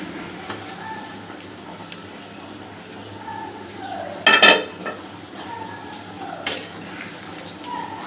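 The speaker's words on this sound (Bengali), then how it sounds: "ঝোলটা ফুটে উঠেছে, এখন আমি চিংড়ি মাছটা ঢেলে দিব।" Shrimp tipped into a pot of simmering curry gravy gives a brief, loud clattering splash at the midpoint, with softer utensil knocks and a faint bubbling before and after.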